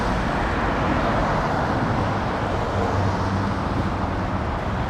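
Road traffic passes on a wet, rainy road as a steady, moderately loud wash of tyre and engine noise that rolls on without breaks, with no voices.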